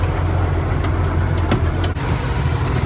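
An old converted school bus with a slight engine miss rumbles loudly and steadily while driving, a low close engine drone with brief rattles on top.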